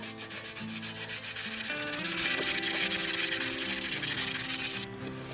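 A Honda Magna 50 engine clutch cover is rubbed and polished to strip its paint, giving a rhythmic scrubbing at first that blends into continuous close, loud abrasive rubbing before it suddenly stops.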